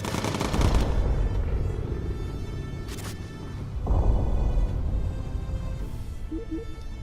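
Machine gun fire from bomber gunners in the video game Bomber Crew, a dense continuous rattle of bursts with booming low-end, loud throughout and mixed with game engine drone and effects.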